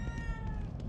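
A red-eyed cat in the horror game The Evil Within 2 gives one drawn-out meow, close and clear over a low rumbling game background.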